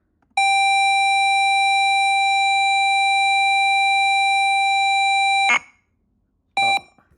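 ZX Spectrum tape-loading signal played back from a WAV file: a long, steady, high-pitched pilot tone held for about five seconds, then a sharp burst of data noise and a second short tone, loud and alone.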